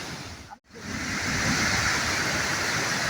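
The Kakkayam waterfall roars as a loud, constant wash of falling water, with a brief dip near the start before the rush returns full and steady.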